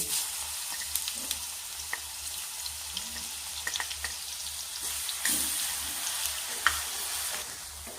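Garlic, fennel seeds and nigella seeds fry in hot oil with a continuous crackling sizzle and scattered sharp pops and spatters, close and steady.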